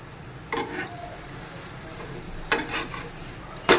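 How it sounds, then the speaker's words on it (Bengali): Lachha paratha frying in a little oil on a pan, with a soft, steady sizzle underneath and a few brief scraping or stirring sounds standing out clearly at intervals. "এবার 2 পিঠ এই তেলে এবার একটু ভেজে নেব।"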